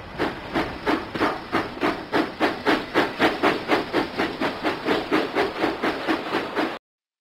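Steam train chuffing in a track-repair video game, a steady rhythmic run of loud, close exhaust puffs with hissing steam, about four beats per second, cutting off abruptly at the end.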